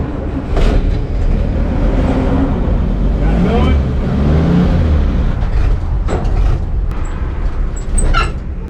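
A 6.0 LS V8 swapped into a 1963 International Harvester Travelall wagon idles with a steady, loud, rough low rumble that continues throughout, with brief sharper noises near the end and people talking over it.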